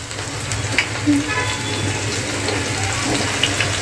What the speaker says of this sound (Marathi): हे जे गरम झाले आहे ना तेल आता आपल्याला यामध्ये लगेच अशी मोकळी मोकळी करून सोडायची आहे गवार